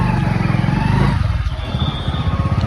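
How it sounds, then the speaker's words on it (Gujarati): A motorcycle is taken out of a parking area at a busy temple, with its engine idling in a close, steady low putter and a light clatter that runs throughout. "જો બાઇક પાર્કિંગ में કાઢ લીધું હવે જઈએ"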